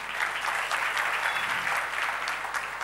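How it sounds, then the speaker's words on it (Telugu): A church congregation claps their hands together in steady, dense applause for about three seconds, even and sustained, without voices over it. "చప్పట్లు కొట్టండి."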